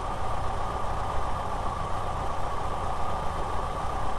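A VW T3 engine idles after fuel shut-off with an intermittent lack of power, giving a steady low rumbling drone at moderate level with no talking.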